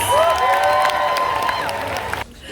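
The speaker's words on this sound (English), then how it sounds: "Give all of our amazing contestants a huge round of applause." A convention crowd at a cosplay grand prix applauds and cheers its contestants with whoops and shouts over steady clapping, while music plays underneath before cutting off near the end.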